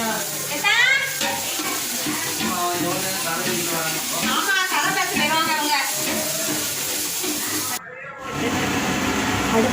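Chicken cooks over a fast-burning stove while being stirred, giving a loud continuous sizzle and hiss under overlapping voices, with a short drop in sound near the end.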